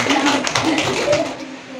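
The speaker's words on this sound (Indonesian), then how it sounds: "Ya, tepuk tangan untuk kelompok 6." Classroom applause for a student group, a patter of many hands clapping unevenly and fading toward the end, mixed with voices talking at the same time.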